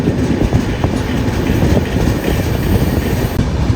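A train rumbles steadily through Begumpet station in Hyderabad, a continuous loud rolling roar with faint clatter of wagons and no voices.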